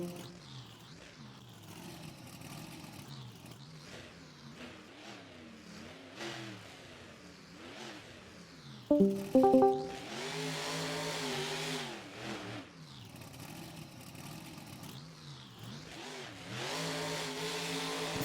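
A monster truck engine revs in Rigs of Rods at a Monster Jam Anaheim freestyle event, the loud engine roar rising and falling in waves, with a sharp burst of crashing impacts near the middle.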